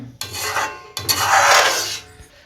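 A spoon or spatula stirs thick Tirunelveli halwa in a pan without pause, making two long rasping scraping strokes that are close and steady, with no talking.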